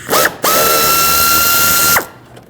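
A power tool backs out a T30 Torx screw holding the headlight on a 2013-2019 Ford Escape. A short burst is followed by a loud, steady whine of about a second and a half, then it stops.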